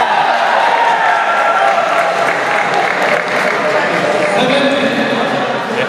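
Applause and crowd noise fill a veterans' badminton final at the Damak Namuna Badminton Cup, a steady broad clapping wash with cheering and talk mixed in throughout.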